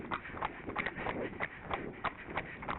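A mare's hooves clip-clop on a road during pre-training roadwork. The beats are steady and evenly paced, slightly muffled and continuous from start to end.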